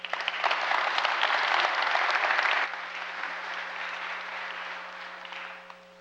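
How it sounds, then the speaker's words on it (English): An audience at an indoor presentation applauding to welcome a speaker, dense clapping for a few seconds that drops to a thinner patter and fades, with a low steady hum underneath. "With your applause again, could you welcome Eric Jackson?"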